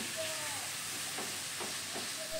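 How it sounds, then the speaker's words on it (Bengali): Cauliflower stems frying in a pan, a continuous loud hiss and sizzle with soft stirring scrapes mixed in. "এবারে খুব সুন্দর করে এগুলোকে নেড়ে চেড়ে নিয়ে মিশিয়ে নেব।"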